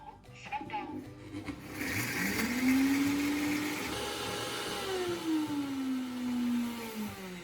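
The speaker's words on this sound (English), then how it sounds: "Start blending in short bursts." A blender grinding cinnamon pieces whirs loudly in a sustained burst, its motor pitch rising and gliding as it grinds, with faint background noise.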